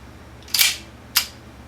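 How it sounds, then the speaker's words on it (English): The slide of a Taurus PT1911 Series 80 pistol with a broken extractor being racked, a sharp metallic clack followed by a second quicker snap, close and alone. "I'm going to rack the slide,"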